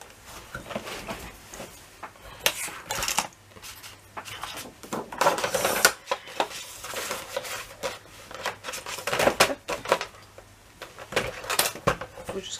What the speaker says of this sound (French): je vais le couper dans toute sa longueur